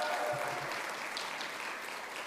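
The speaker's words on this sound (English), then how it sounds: "Let's give them all one great big round of applause for all of our nominees" Applause for award nominees at a Direct Sellers Day 2022 awards event: a dense, steady crowd clapping that continues for the whole stretch, slowly fading slightly, with no speech over it.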